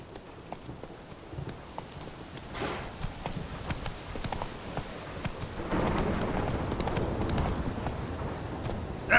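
Hooves of Roach, the horse from The Witcher 3, clopping steadily at a gallop over continuous outdoor game ambience, growing a little louder and busier partway through.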